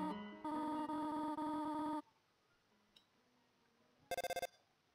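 A phone rings in Undertale with a loud, bright electronic tone lasting about a second and a half, then silence, followed by a short burst of rapid high beeps.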